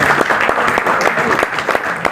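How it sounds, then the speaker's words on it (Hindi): An audience bursts into loud, dense applause, many hands clapping at once in a steady roar that carries on throughout without easing, with some faint voices mixed in beneath the clapping. "तो एक बार इनके लिए जोरदार तालियां जाए।"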